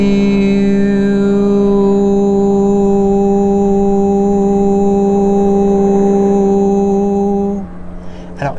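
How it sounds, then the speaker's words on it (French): A sustained voice holding the HU spiritual mantra as one long, steady droning tone with rich harmonics, loud and unbroken for about seven and a half seconds before it cuts off. "c'est le chant du You"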